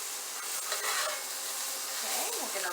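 Tofu and onions stir frying in a pan for pancit canton noodles, a steady close sizzle with soft stirring scrapes throughout.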